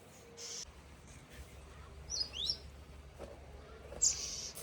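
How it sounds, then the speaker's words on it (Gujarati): Faint, high chirps from sparrow chicks inside a house sound a few times against quiet background hiss, with brief gaps between them. "મસ્ત મજાના ચકલીના બચ્ચા છે અમારા ઘરે જો મિત્રો"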